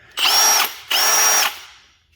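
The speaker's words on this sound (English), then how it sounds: "I always like the throttle response on Milwaukee's, and the sound of their motors" A Milwaukee 2804-20 cordless hammer drill whirs up in two short bursts, each spinning at high speed for about half a second before winding down.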